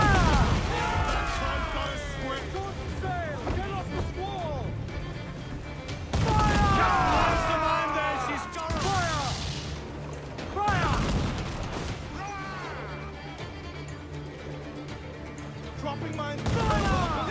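Ship cannons in Assassin's Creed Black Flag fire in a few heavy, loud bursts a couple of seconds apart, amid naval battle noise and voices talking.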